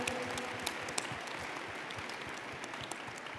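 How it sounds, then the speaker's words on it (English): A standing audience at a network-marketing event applauds in a dense, sustained burst of clapping, with a few sharper individual claps standing out near the front. "Give them all a round of applause."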